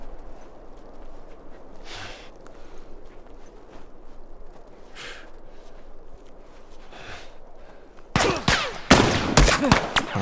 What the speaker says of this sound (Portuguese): Mas de onde veio o outro tiro?